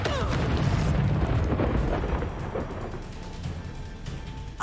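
Confringo fire-blast spell in Hogwarts Legacy, a heavy rumbling burst with a deep booming roar that swells at the start and slowly dies away into a low residual rumble.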